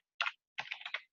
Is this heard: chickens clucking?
no